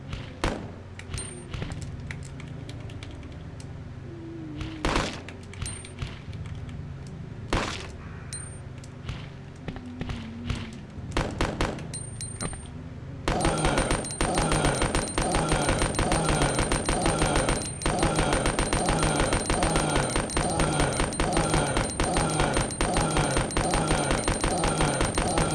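Gunfire at an enemy in Resident Evil 2, with a few sharp, isolated shots spaced seconds apart over quiet game ambience. A dense, rhythmic pulsing game sound then takes over.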